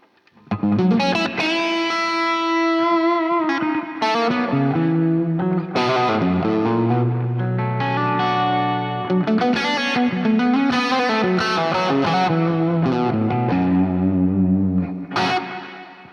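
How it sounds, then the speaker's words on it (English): An electric guitar runs through a Quad Cortex with a mono delay, stereo plate reverb and stereo delay, playing distorted sustained chords and melodic lines with trailing echoes, loud and continuous, with no voices. "right now you're hearing a mono delay in the middle, a plate reverb in stereo, and then stereo delay happening"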